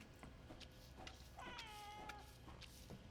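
Several cat meows in the video game Crime Scene Cleaner, a drawn-out wavering cry standing out in the middle over a busy background of game sounds and clatter, with shorter calls around it.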